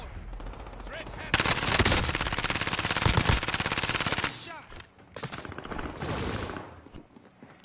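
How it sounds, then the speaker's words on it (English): Rapid automatic gunfire rattles in Call of Duty Warzone, a long loud burst followed by shorter volleys and scattered shots, with game sounds in between. "It's like a laser gun, bro."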